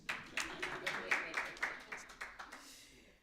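Audience clapping at a Build One South Africa party event: a steady run of crisp, evenly spaced claps at moderate loudness that thins out toward the end.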